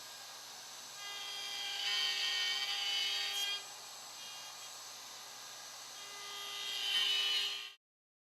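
Router with a number 80 bit cutting through-dovetail tails in a tailboard on a Leigh Super Jig, a steady high whine rising twice under load before stopping abruptly.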